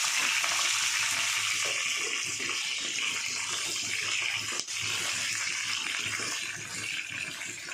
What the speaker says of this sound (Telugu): ఇప్పుడు మనం దీనిలో పచ్చిమిరపకాయలు యాడ్ చేసుకుందాం.